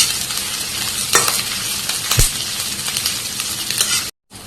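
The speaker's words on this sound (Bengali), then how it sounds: "তার সাথে দিয়ে দিচ্ছি 5-6টা কাঁচামরিচ। এখন এটাই ভালোভাবে ভেজে নেব।" Sliced onions and five or six green chilies fry steadily in a pan, a continuous close sizzle broken by a few scraping stirs, with no talking.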